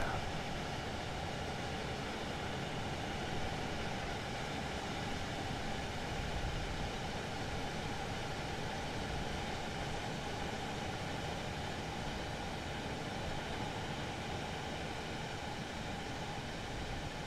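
A Class 395 train in ITX-Saemaeul livery runs in Train Sim World 4, producing a steady, dense rolling rumble and hiss of wheels and motors that stays level and continuous throughout.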